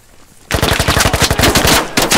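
Rapid automatic gunfire in the video game Squad bursts in after a quiet moment, a loud, close, steady rattle of shots lasting well over a second with no talking over it.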